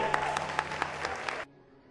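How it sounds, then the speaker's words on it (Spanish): Audience applause fills a Day of the Dead ofrenda exhibition at IPN 2013 in Mexico, a dense steady wash of clapping with a few sharper claps, then it cuts off abruptly into near silence. "aplauso, México."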